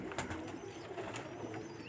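Pigeons coo softly on a rooftop, a few low, throaty murmurs heard faintly against steady outdoor background noise.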